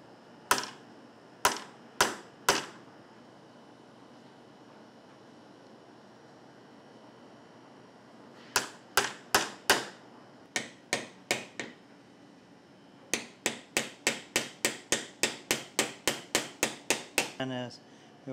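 A chisel is struck by a mallet while cutting into a solid wood shelf, giving sharp hollow knocks in scattered groups, then a long rapid run of evenly spaced blows, close and clear.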